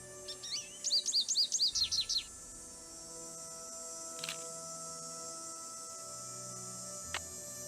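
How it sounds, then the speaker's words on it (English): Game birds chirp at Moon Lake in a quick rapid series of bright tweets, then fall quiet over a steady ambient hum with a couple of isolated clicks. "you're just taking pictures of these birds"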